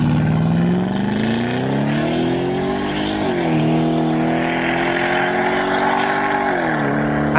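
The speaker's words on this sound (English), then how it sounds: "I mean, have a listen to this RS6." An Audi RS6 twin-turbo V8 revs loudly and close up, its deep engine note rising and dipping through several throttle changes with no talking.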